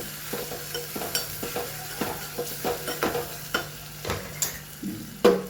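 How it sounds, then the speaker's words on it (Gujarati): Onion, tomato, green chili and curry leaves sizzle in an oily pan while a spoon stirs them in steady repeated scrapes, close and fairly loud with no talking. "ડુંગળી, ટામેટાં અને મરચાં. લીમડો એડ કરીશું."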